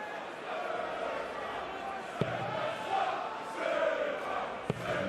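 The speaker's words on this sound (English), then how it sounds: "And the crowd find their voice again." A darts crowd at the 2024 World Darts Championship cheers in a sustained, swelling roar, with a couple of sharp thuds cutting through the noise.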